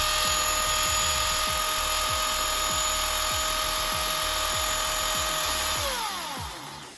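A Milwaukee electric chainsaw spins at full speed to fling off excess bar oil, a steady loud high-pitched motor whine with chain rattle that runs for about six seconds, then winds down as the motor slows.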